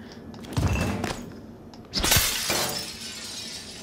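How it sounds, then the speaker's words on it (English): Glass shatters loudly under a wrench strike in a video game, preceded by a few heavy thumps and followed by a crashing spray of shards. "My wrench is strong enough to break the glass"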